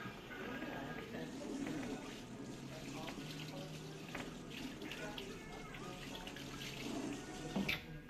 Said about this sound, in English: So I like to wet the scalp first